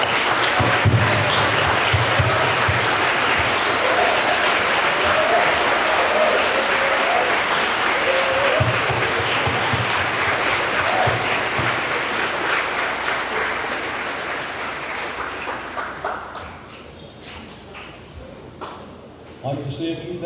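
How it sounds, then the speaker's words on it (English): Students at a Rutgers Prep Upper School honors convocation give the faculty a sustained round of applause, loud and dense with a murmur of crowd voices, gradually thinning out over the last few seconds. "give a rousing round of applause to the faculty"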